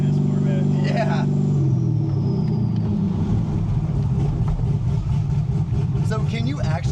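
A 750whp supercharged C6 Z06 Corvette with a loud exhaust rumbles deeply and steadily from inside the car, under people talking throughout.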